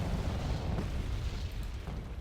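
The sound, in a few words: artillery fire in the video game Wargame Red Dragon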